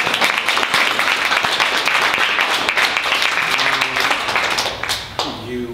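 A book launch audience at a bookstore bursts into dense, sustained applause, many hands clapping together loudly before tapering off at the end, with voices mixed in beneath.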